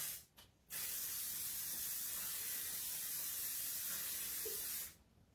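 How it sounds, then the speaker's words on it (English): L'Oreal Paris Infallible 3-second setting mist sprayed in a few quick bursts, then one long steady hiss lasting about four seconds, close and fairly soft, ending abruptly. "It's the L'Oreal Paris Infallible 3-second setting mist."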